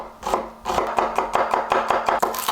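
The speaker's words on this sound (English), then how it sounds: "Starting off with finally dicing some onion" A knife dices an onion on a board with quick, even chops in a steady rhythm, crisp and close, with no talk.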